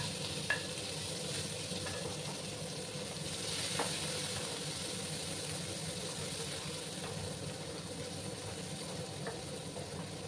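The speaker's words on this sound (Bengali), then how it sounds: "এই পেঁয়াজ কুচিগুলো দিয়ে দিলাম" Two chopped onions sizzling steadily in hot oil in a pan for a bitter gourd and potato curry, a faint, even frying hiss with a low gas-flame rumble beneath and a few small clicks.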